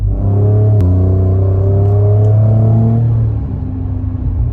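Ford Raptor V6 twin-turbo truck with the exhaust valves open in Baja mode, a loud, deep close-up exhaust note that rises in a rev then steadily settles back down, strongly tonal and rumbling.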